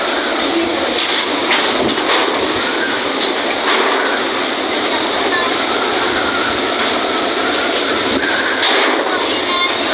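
Typhoon Pipeto's strong winds batter the area in a loud, unbroken roar of rushing air, with intermittent gusty bursts and rattling thuds throughout.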